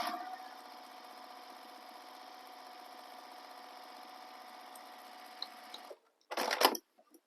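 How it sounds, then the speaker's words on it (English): A sewing machine top stitches the top edge of a handbag, running in one steady, even whir for about six seconds, then stopping, followed by a short burst of rustling; quiet and close, with no talk. "Now we're going to top stitch the top edge"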